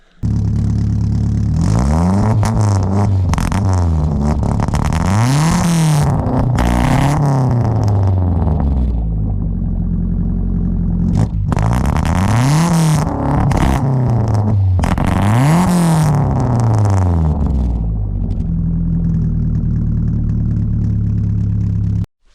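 A loud, raspy race car engine running rich through a straight-pipe muffler idles and then revs in two strong swells, its pitch climbing and falling, close by with no speech.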